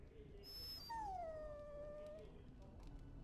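In the video game Dragon Age Origins, a dog lets out one drawn-out whimpering whine that slides down in pitch, faint against quiet background ambience.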